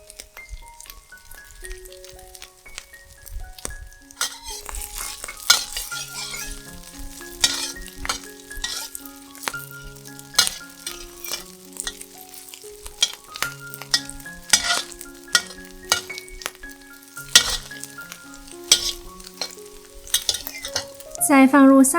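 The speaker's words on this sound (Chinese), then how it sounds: "待油热后，放入素羊肉和素火腿炒一炒" Vegetarian mutton and vegetarian ham stir-fried in hot oil in a pan, with repeated clinks and scraping of a utensil and a soft sizzle beneath prominent background music throughout.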